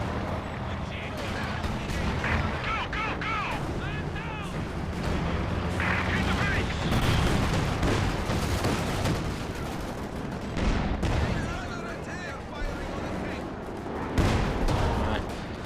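Dense battlefield gunfire in Company of Heroes 2, with a machine gun rattling from a forest position amid artillery and rifle shots. The noise is continuous and loud, bursts overlap through the whole span, and a voice talks over it.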